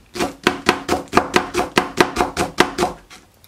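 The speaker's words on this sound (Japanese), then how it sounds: "あとはネギみじんですね。" A knife minces green onion rapidly on a cutting board, about a dozen crisp, evenly spaced taps, close and loud, with no talking.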